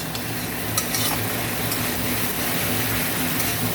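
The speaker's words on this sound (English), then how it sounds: "So now the raw smell comes from poppy paste, so we need to fry it well." Poppy seed paste frying with onion for a parshe fish curry, a loud, dense sizzle with spoon scrapes and clinks over the pan, continuous and close, without voices.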